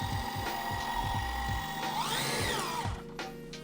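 Flex cordless rotary polisher running at its lowest speed setting, pad agitated against a pad washer groove, giving a steady whirring motor with rhythmic low thumps, then a rising and falling whine as it lifts off.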